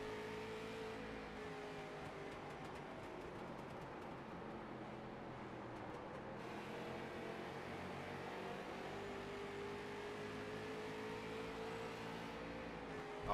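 A street stock car engine drones continuously at Oswego Speedway in a sim racing game, a steady, faint, onboard-style hum with shifting pitch as the car laps, with no talk over it.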